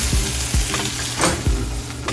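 Beef sizzles steadily as it sears in a hot cast iron pan, a constant crackling fry with a few scraping knocks of a spatula, close and loud.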